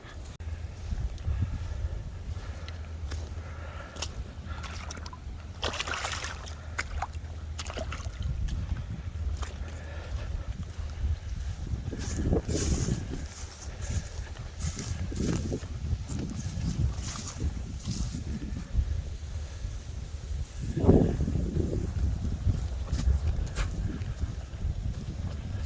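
Wind on a gusty first day of spring buffets the microphone outdoors in a constant low roar. Stronger gusts swell now and then, along with scattered faint rustles and knocks.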